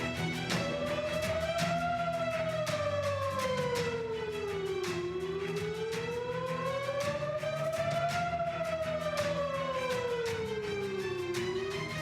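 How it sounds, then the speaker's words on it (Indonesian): An air raid warning siren wails, rising and falling in long, slow sweeps, loud and continuous throughout, with a steady low hum beneath and no voices. "Suara sirene yang tak kunjung berhenti adalah alarm untuk warga agar segera mencari tempat"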